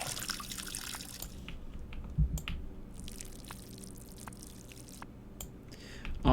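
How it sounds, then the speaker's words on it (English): Water poured onto plants in Schedule I, a soft liquid splash and trickle with a few drips, fairly quiet and steady without speech. "We have watered the plants."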